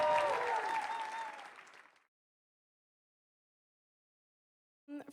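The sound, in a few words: audience applause for the groom's parents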